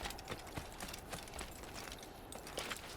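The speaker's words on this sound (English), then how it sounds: "Oh, there's a horse right here anyway. I can just hijack this one." Horse hooves clip-clop in a steady walking rhythm in the Assassin's Creed video game, moderately loud over a busy background of game ambience.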